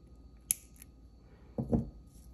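Scissors snip spare wire while forming a jewelry loop for an earring, one sharp click followed by a second duller cut a second later, close and quiet.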